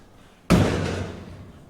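A custom-built door on a 1938 Plymouth hot rod swings shut with a single sharp slam, a close metallic thud followed by a brief ringing decay, with no one talking.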